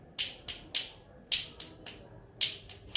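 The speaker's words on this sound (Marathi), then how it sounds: "एका हाताने कशी टाळी वाजते?" A single hand clapping trick performed alone, giving sharp, snappy slaps in an uneven rhythm, about eight of them over a few seconds, close and fairly quiet with no talk.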